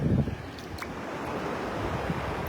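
Ocean surf on a North Carolina beach in October washes in a soft, continuous hiss with a brief louder wave burst at the start and light wind rumble, faint and steady with no voices.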